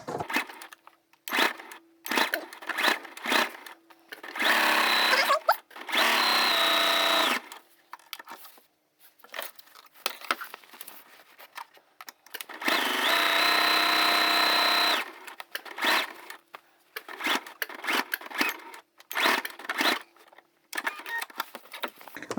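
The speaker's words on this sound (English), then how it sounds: "we're going to do a back stitch" A sewing machine back stitching a seam on a backpack made from placemats, running in short bursts and a few longer sustained runs separated by pauses and small handling clicks.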